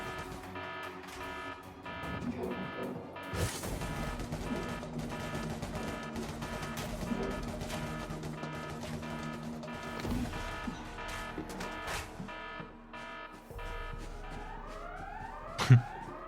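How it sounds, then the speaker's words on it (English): Repeating alarm siren blaring aboard a spacecraft in the space game Elite Dangerous, a steady electronic wail sounding over ship hum and game effects, with a sharp burst near the end. "Sound the alarm. Alarm 3, please."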